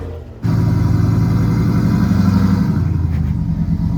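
A Jeep engine drives up an off-road trail, its low steady rumble starting abruptly and holding close and loud for a few seconds.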